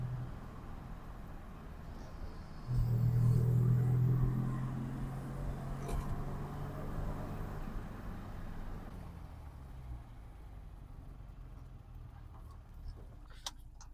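MG BGT sports car accelerating on a flat road, engine note swelling loudly then easing into a steady drone that fades as it pulls away, heard from nearby with no talking.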